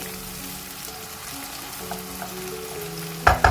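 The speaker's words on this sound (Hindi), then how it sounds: "प्याज को हमने फ्राई करना है जैसे हम नॉर्मली प्याज को फ्राई करते हैं, लाइट ब्राउन से हम कर लेंगे" Onions fry in a pan for a beetroot and mutton curry, giving a steady, close sizzle throughout with a couple of sharp utensil knocks against the pan near the end.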